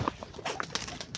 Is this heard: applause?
no